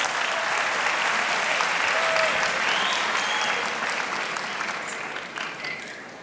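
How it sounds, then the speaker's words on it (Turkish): Studio audience on a Turkish television talent show applauds in a steady, dense wash of clapping that holds strong and slowly fades toward the end, with faint cheers in the mix. "Evet diyenler alkışlasın."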